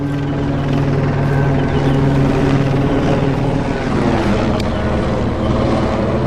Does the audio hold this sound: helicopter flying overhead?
yes